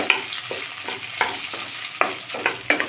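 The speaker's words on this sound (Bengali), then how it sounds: "টমেটোগুলো নেড়ে চেড়ে একটু নরম করে নিব" Chopped tomatoes fry with ginger and garlic in a pan while a spoon stirs them, giving about eight rhythmic scraping strokes over a soft, steady sizzle, close up.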